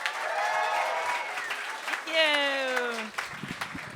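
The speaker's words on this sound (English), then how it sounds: "Big round of applause for Sarah Ashby." A comedy club audience at a stand-up roast battle applauds steadily, while a voice calls out loudly over the clapping partway through.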